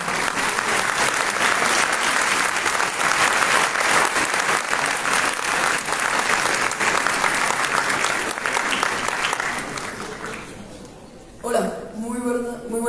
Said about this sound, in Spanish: Por favor, un aplauso para Salomón.